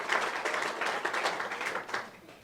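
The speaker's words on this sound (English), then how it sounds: "round of applause for that" Audience applause at a university athletic hall of fame induction ceremony, a steady dense patter of many hands clapping that holds moderately loud for the whole stretch without a clear fade.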